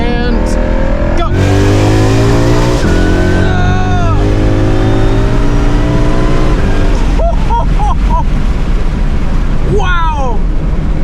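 A 2024 Chevy Z71 Duramax truck pulls hard with traction control off. The diesel roars loudly as it climbs through the gears, with rising engine tones and shift breaks, and excited voices exclaim over the noise.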